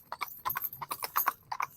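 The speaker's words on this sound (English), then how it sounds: "You see this horse still coming up." Horse hooves clip-clop in a quick, uneven run of sharp strikes, fairly close and clear, with no voices over them.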